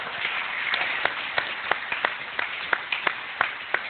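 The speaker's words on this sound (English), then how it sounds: "A round of applause for Jesus." Applause from a church congregation during a worship service, a run of sharp, separate claps sounding at a moderate distance in a roomy space, scattered and uneven rather than a full ovation.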